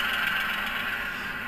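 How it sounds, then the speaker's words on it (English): A model locomotive running on a Tsunami2 or Blunami sound decoder throttles up, giving a steady, loud, dense engine rumble with a continuous exhaust chug that holds level throughout. "you hear the dynamic exhaust kick in as the engine now is up to speed"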